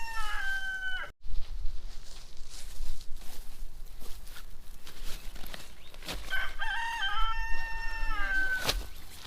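A rooster crows close by outdoors, one call at the start and a second longer crow near the end, with steady outdoor ambience between them.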